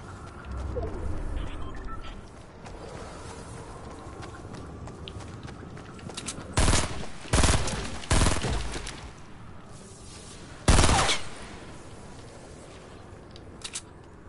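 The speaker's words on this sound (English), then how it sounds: "Someone's shooting at me." Gunfire in a PS4 video game sounds as a few loud, heavy bursts over a steady background din, with long gaps of quieter noise between the volleys.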